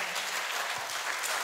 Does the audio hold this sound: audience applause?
yes